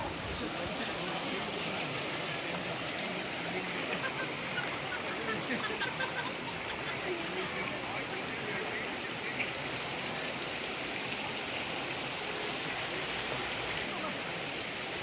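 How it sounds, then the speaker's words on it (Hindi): Mountain stream water flowing down into a pool: a steady, even broadband rush and splash, continuous and close, with no pauses. "ये ऊपर पहाड़ों का पानी है जो ऊपर से आ रहा है सारा"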